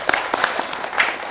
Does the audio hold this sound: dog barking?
no